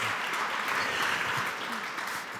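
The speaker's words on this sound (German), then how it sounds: "Der Applaus gilt jetzt erst einmal Ihnen, Herr Kiewin" Steady audience applause at a panel discussion, a continuous wash of clapping that holds at even loudness for a couple of seconds with no speech over it.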